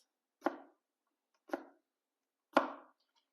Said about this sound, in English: Now we're going to chop up our tomatillos